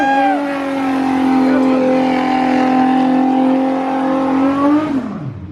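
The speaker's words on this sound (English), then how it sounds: "Burnout!" A twin-turbo Nissan 370Z holds a loud, steady high-revving engine note for several seconds during a burnout, then the revs drop away at the end; people shout excitedly close by.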